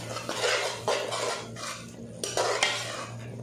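Ginger garlic paste being stirred into a pan for white karahi: continuous scraping strokes of a spoon against the metal with a light sizzle underneath, close and fairly loud, no talking.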